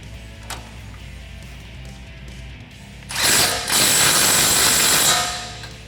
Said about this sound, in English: then we'll tighten that down with our 17mm socket on our impact gun